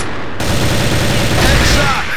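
A loud, dense spray of automatic gunfire from a shooter video game, rapid shots packed into one continuous roaring burst lasting about two seconds, close and unbroken.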